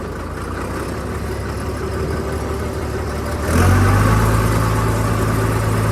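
A Farmtrac six-cylinder 100 hp tractor engine runs steadily close by, then its note deepens and grows louder as it is put into first gear and pulls away with a heavy, throbbing rumble.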